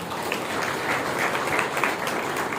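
Steady, dense clapping from a large gathering at a birthday celebration, loud and continuous for a couple of seconds with no break and no voices over it.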